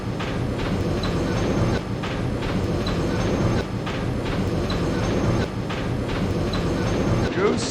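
A subway train from the 1990 film Ghost rumbles loudly and steadily, with a rhythmic clickety-clack of wheels on rails and brief squeals near the end.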